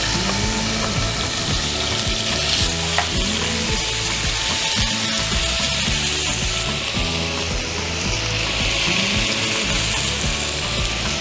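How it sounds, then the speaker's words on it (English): Meat browns in a hot pan with a loud, constant sizzle and frying crackle, with scraping and stirring noises from the cookware throughout and no voices. "I've just finished browning off all the meat."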